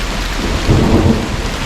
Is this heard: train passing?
no